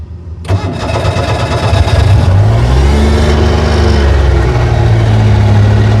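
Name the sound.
engine of an old abandoned police car running and revving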